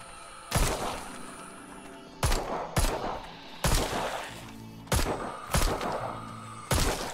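Repeated sharp gunshots in the VR shooter Arizona Sunshine, about seven loud cracks fired in irregular bursts, each trailing into a rumbling echo over a steady background.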